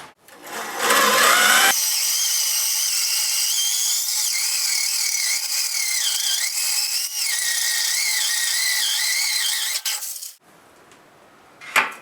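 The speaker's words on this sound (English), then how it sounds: "let's drill some freaking holes" A power drill boring holes during a lifted mudding-mower build: a steady high motor whine runs for about nine seconds with slight pitch wobbles, then cuts off, leaving quiet workshop background and a short knock.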